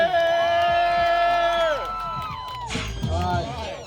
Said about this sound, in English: we need to hear the loudest crowd